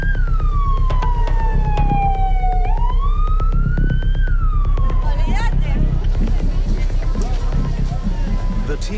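An ambulance siren wails loud and close, its pitch sweeping down and up as the vehicle rushes a patient through streets in Argentina, over a steady pulsing engine or background rumble.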